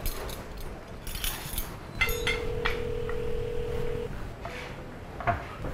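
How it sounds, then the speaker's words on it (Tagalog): A telephone rings in a steady electronic tone for about two seconds, amid faint room noise and scattered clinks. "parang may tumutulong na telepono"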